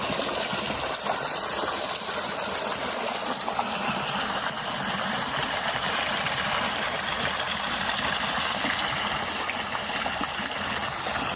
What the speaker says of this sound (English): Little water pump and waterfall.